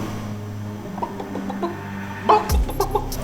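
A person imitates a chicken, making a run of clucking sounds up close, followed by a few louder abrupt bursts near the end.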